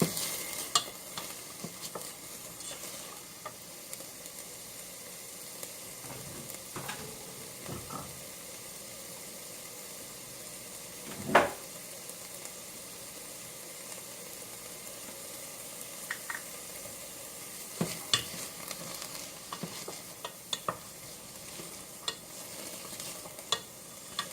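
Chopped celery sweats in a pan for a chili, a soft continuous sizzle broken by scattered scrapes and knocks of stirring, with one louder clatter partway through and no speech.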